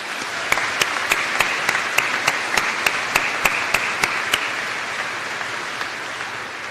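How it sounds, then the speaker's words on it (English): An audience at a graduate school student recognition ceremony applauds steadily, dense continuous clapping from a crowd in a hall with a few sharper individual claps standing out, moderately loud throughout. "How about a round of applause for all of them?"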